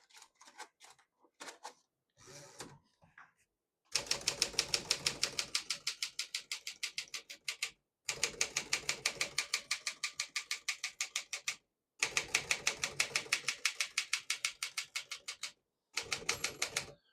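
Typing on a 1957 Smith-Corona Silent-Super portable typewriter, sounding as quick, steady runs of crisp key strikes in close bursts of about four seconds, split by brief pauses, with a few scattered clacks at the start.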